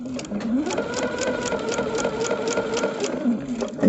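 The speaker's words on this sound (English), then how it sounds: "we're going to sew right on top of that" A sewing machine stitches quilt pieces for a star-spangled quilt, a steady rapid mechanical chatter close by, running continuously without pause.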